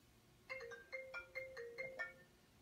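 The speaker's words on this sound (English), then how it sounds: "I haven't heard the phone ring in, well, months." A telephone ringtone in a dark adventure game sounds a series of bright, melodic electronic bursts, five clear rings in quick succession, fairly faint and alone with no voices.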